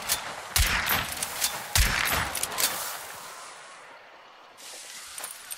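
Gunfire in the online shooter Hunt: Showdown: several loud, sharp shots spread over the first few seconds, each with a decaying tail, then quieter game ambience.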